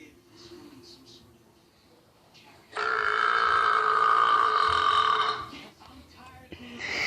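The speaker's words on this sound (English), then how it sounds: "long burping video?" A person lets out a long, loud, sustained burp lasting a few seconds, close and dominant, with quieter breathing and movement before and after.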